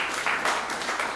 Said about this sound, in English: Clap if you have a mortgage.